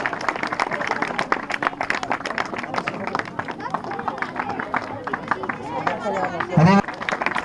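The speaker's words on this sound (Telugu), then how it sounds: "చప్పట్లు కొట్టండి ఒకసారి." Audience at a teacher's retirement function at a village school, a sustained burst of many hands clapping, dense and lively at moderate distance, with crowd murmur and a brief voice near the end.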